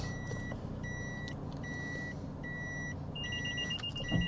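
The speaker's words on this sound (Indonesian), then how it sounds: "Untuk sensor mundurnya masih aktif." Reverse parking sensor in a 2015 Daihatsu Terios X Extra automatic beeping in short evenly spaced bursts, near and clear inside the cabin over a steady low engine hum, with the pulses quickening toward the end.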